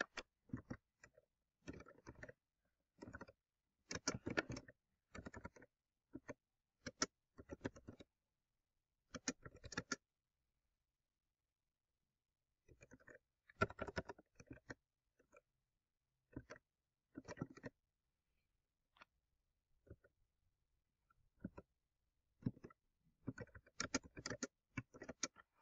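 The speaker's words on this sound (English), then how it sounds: "So I'll go ahead and type that out now" Bursts of rapid keyboard typing come in clusters separated by short silences, fairly close and crisp, with no talking.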